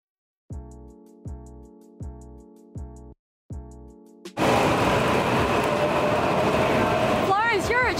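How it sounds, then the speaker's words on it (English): A Japanese station scene: five repeated tonal chime or horn bursts, then a loud, steady rush of a train pulling through, with a few rising whistling sweeps near the end. "This one's our train."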